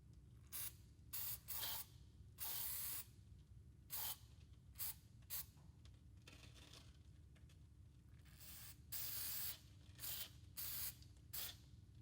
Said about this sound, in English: Begin to spray brake clean on all parts of the boot,